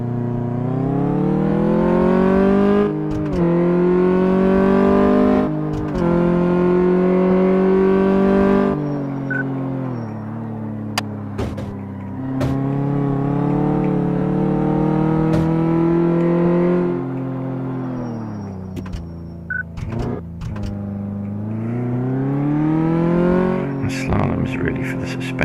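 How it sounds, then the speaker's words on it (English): A car in Car Mechanic Simulator 2014 accelerates on a test drive, its engine note climbing through repeated gear changes with brief dips between pulls, loud and close, with a tire squeal near the end and a voice talking over it. "Test drive. Because that'll show us acceleration."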